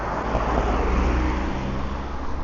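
A car passes by on a road, a broad steady whoosh of tyres and engine that stays loud and close throughout.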